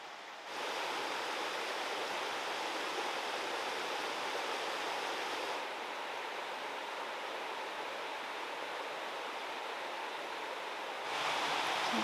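Stream flowing beside a hiking trail in Waterton Lakes National Park, Alberta, a continuous rushing hiss of water, steady and fairly close, with a slight drop in level partway through and no voices.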